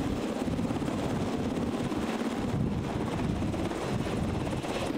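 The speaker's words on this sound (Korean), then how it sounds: "산 능선을 따라 헬기가 줄지어 기동하며 장관을 이룹니다" Military helicopters flying in formation along a mountain ridge give a continuous, loud rotor roar with steady beating chop and some wind buffeting.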